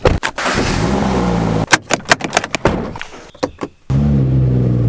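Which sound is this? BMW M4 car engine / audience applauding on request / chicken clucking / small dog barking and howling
BMW M4 car engine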